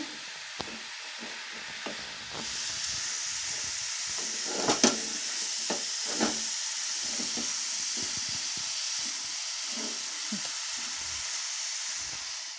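Grated carrot fries in ghee for carrot halwa while being stirred, a continuous bright sizzle broken by scattered scraping taps of the spoon, with no voices.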